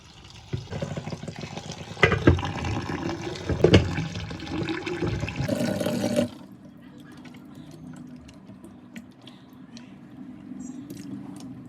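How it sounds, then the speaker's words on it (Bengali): Shola kochu (taro) is washed in water in a home kitchen, with splashing, sloshing and rinsing for about six seconds, then quieter handling of the wet taro. No one speaks. "তো এবার এই পাত্র থেকে শোলা কচু অন্য একটি পাত্রে তুলে নিয়ে খুব ভালোভাবে জল দিয়ে ধুয়ে নেব।"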